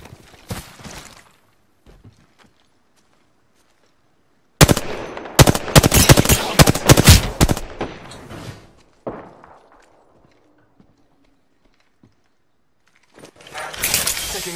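Apex Legends firefight: sharp, loud automatic gunfire bursts crackle close by for a few seconds, with a few scattered shots before and after, separated by near-silent gaps.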